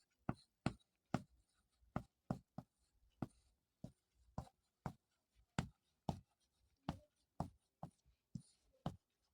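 Chalk or a marker writing on a board while a quadratic equation is worked out, a quiet run of sharp taps and short strokes in an uneven rhythm with no talking.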